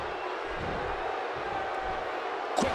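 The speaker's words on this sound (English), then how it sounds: "by the sound of this crowd, I think they're getting what they wanted." Crowd at a live pro wrestling event fills the air with a steady roar of cheering throughout, rising in a brief louder burst near the end.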